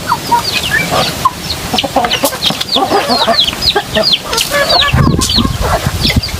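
Chickens cluck and chirp steadily in a busy outdoor flock on a rural farm, some under trees, with overlapping calls near and far and no talking.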